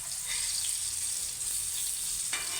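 Fish fries in a pan after being flipped, a steady close hiss of sizzling oil that stays even and loud throughout with no voices.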